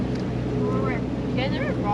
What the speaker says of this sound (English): motoring in the boat